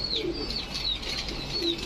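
Afsan grizzle pigeons cooing in low repeated notes with bursts of wing flapping, close by, amid a steady background hiss and scattered chirps.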